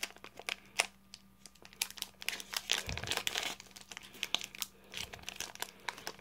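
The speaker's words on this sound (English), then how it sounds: "These packs are so hard to open." Crinkling foil wrappers of Pokemon card booster packs being torn and worked open by hand, a close, continuous run of crackling and sharp tearing snaps with no talking.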